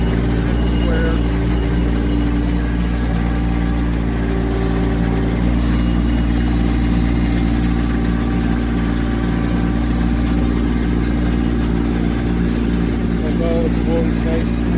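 A 2024 Kubota LX2620HSD hydrostatic compact tractor runs at a steady idle, its engine hum droning evenly and unbroken throughout.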